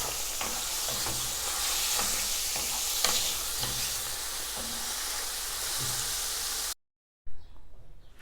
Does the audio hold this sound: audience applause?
no